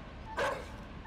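A single short, sharp dog bark with a whimpering edge, from the video game Inside, rings out clearly over a quiet low hum.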